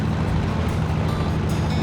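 A trawler running across the middle of the Padma river: a steady, loud, broadband rumble of engine and rushing water and wind that holds constant throughout, with no voices.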